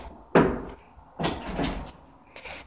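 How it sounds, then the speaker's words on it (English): A door is opened with a heavy thud, then a second longer burst of knocking and rattling as it swings, with a faint click at the end. "I'm gonna open this door, okay?"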